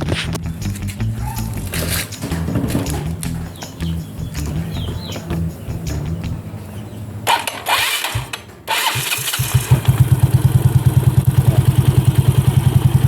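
A Yamaha Mio scooter engine, freshly refitted after a CVT belt cleaning, cranks and fires up partway through, then settles into a steady, close, loud idle with a fast regular pulse after some earlier clatter and mechanical handling.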